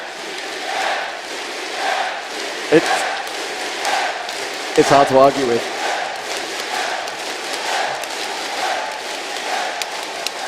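A large arena crowd at the League of Legends Season 2 World Finals roars and cheers steadily throughout, a dense wash of voices with a few louder bursts, under a commentator talking over it.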